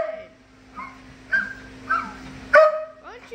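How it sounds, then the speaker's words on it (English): An indoor dog gives a series of four or five short barks and yips at uneven intervals, close by, with a faint steady hum behind them. "stop barking"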